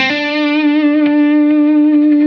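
One loud distorted electric guitar note with a hard rock-style tone rings out and sustains steadily with a gritty, buzzing tone.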